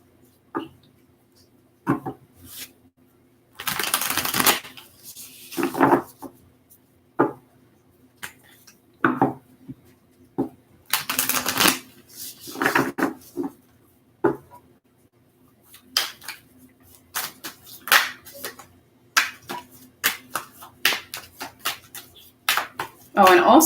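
Tarot cards are shuffled by hand in a series of short, papery riffles and taps, some bursts louder than others, scattered irregularly with quiet gaps between them.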